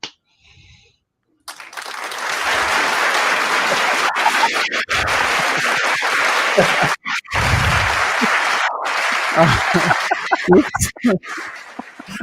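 Canned applause from a soundboard button on a live stream: a broad, steady wash of clapping and crowd noise running for about ten seconds after a brief quiet start, with a short dip partway through.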